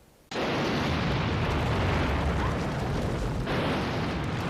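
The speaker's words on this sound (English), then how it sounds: "they run away from a huge explosion" A sudden massive explosion erupts and rolls on as a sustained, roaring blast of noise, loud and dense throughout.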